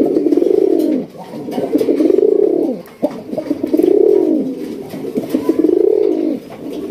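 Raj Golla pigeons coo close by in a steady series of deep, rolling, drawn-out calls repeating every second or so, loud and alone with no talk.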